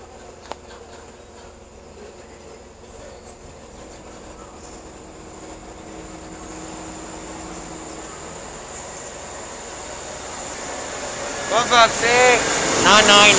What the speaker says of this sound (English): Incoming now, we have patrol 46, East Midlands Railway service from Crewe to Newark.